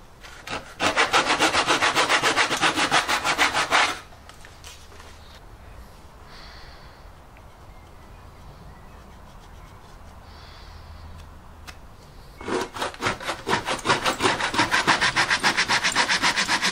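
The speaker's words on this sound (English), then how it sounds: "I'm going to use this mitre box that I made many years ago." A handsaw cuts wood in a homemade mitre box with loud, rapid back-and-forth strokes for about three seconds. A quieter stretch with faint handling noise follows, then another burst of brisk sawing.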